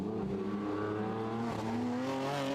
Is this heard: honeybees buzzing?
no